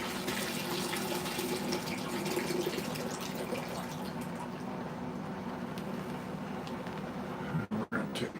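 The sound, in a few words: slurry water being dumped out of a bucket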